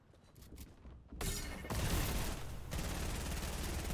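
Gunfire in the Fortnite video game, with sustained, dense shooting bursts and mechanical clatter filling the clip at close range, no speech.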